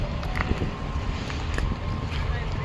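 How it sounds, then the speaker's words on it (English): Steady wind roars and rumbles across an open microphone at an outdoor farmers market, a constant gusty wash with faint scattered knocks underneath. "It is so windy out here, y'all."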